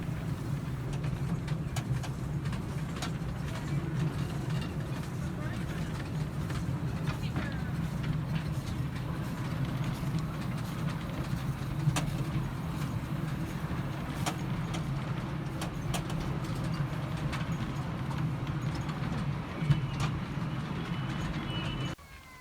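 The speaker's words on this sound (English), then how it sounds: "The train goes around 2 circuits around the garden, and we now see it from the UK displays." A garden railway train runs steadily around its circuit past Disney and Looney Tunes model statues, giving a continuous low rumble and rolling noise throughout, with scattered clicks on top.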